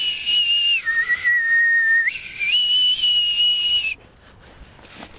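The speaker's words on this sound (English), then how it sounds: "You whistle them aboard." A person whistles a shrill bosun-style call to pipe someone aboard: a high, sustained note that dips, rises and holds, then cuts off abruptly, leaving near quiet.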